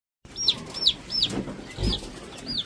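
Young chicks peep in short, high, repeated chirps, about five of them spaced roughly evenly, with a few soft low clucks in between, heard close up with no talk.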